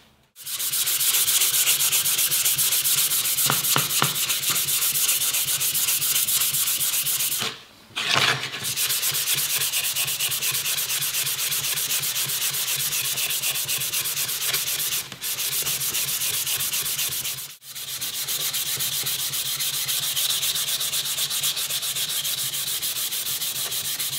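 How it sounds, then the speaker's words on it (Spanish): Fine sandpaper rubs steadily across the finish of a wooden skirt being restored, a continuous close scratchy hiss with two brief pauses, no voices. "lo siguiente que queda es suavizar este acabado"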